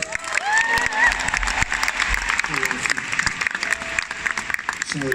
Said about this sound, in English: Give a big round of applause for my girls.